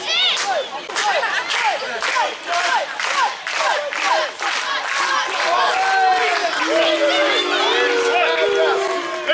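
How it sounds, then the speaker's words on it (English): A large wrestling crowd jeers and shouts at a wrestler in the ring, a dense, loud wall of voices sustained throughout with rising and falling yells. "Lewis Blain receiving the boos of this crowd"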